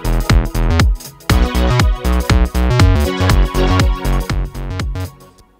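Programmed bass clip plays inside Bitwig Studio, loud punchy synth bass notes in a looping electronic pattern over about five seconds, heard alone without speech.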